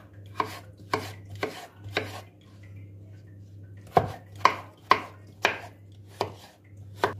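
Knife chopping potatoes into cubes on a cutting board for a Turkish Arap tava dish, about a dozen crisp, evenly spaced chops in two bursts, close and clear over a steady low kitchen hum.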